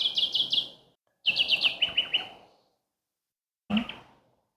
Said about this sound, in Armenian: տեսեք ամեն երեկո մի սոխակ ինչ գեղեցիկ երգում է